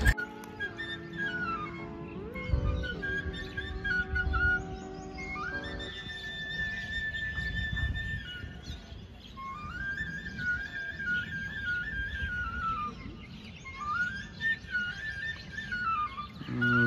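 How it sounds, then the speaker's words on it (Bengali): A bamboo flute plays a lilting melody with long sustained notes and gliding phrases outdoors under a tree, with low rumbling background noise throughout. "এমন একদম সুন্দর গাছের তলায় বসে বাঁশি বাজাচ্ছে"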